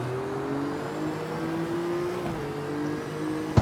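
Car engine in a car-building video game held high in the revs, a steady droning whine with a slight pitch dip partway through and a sharp click at the end.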